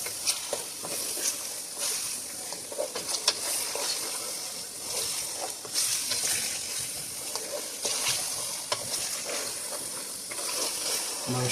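Mutton for nihari fries in a pot with a steady, dense sizzle and hiss, broken by occasional stirring scrapes and pops, heard close and continuous.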